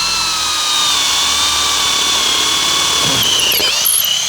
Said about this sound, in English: I'll just drill that through.